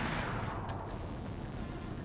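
Dense, rumbling gunfire fills a Resident Evil: Operation Raccoon City shooter game, a continuous loud wash of shots and booms with no clear gaps.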